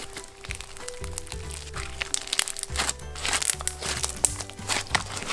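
Crunchy slime squished and kneaded by hand, giving dense crackling, crunching pops in irregular bursts at close range, with a steady low hum beneath.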